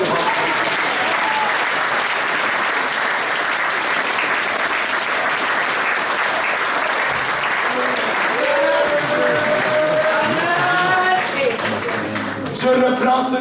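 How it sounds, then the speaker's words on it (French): Loud, sustained congregational applause fills a church service during an evangelist's sermon, steady dense clapping with crowd noise and a few voices rising near the end. "Donnez un tonnerre d'applaudissements."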